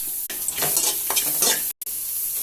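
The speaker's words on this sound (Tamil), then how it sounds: "இப்ப பொடியா நறுக்குன ஆனியன் ஒன்று சேர்த்துக்கிறேன்." Steady hissing sizzle of finely chopped onion frying in a hot pan without oil, with scraping stirs throughout and a brief drop to silence near the end.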